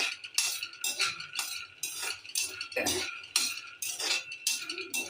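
Peanuts dry roasted in a pan, heard as a quick, rhythmic series of scraping and rattling strokes as a spoon stirs the nuts against the metal, fairly close and quiet.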